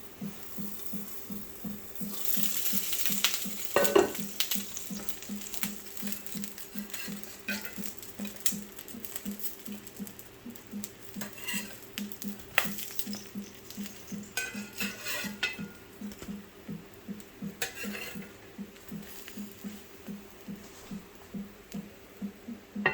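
Food cooks in a pan on a farmhouse stove, a soft, regular pulsing sizzle and bubbling that continues for the whole stretch, with occasional clinks of utensils and dishes.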